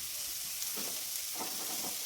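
Onion, carrot and other vegetables sizzle steadily in a hot pan while egg rice is being cooked, a constant bright crackle with a few soft stirring scrapes partway through.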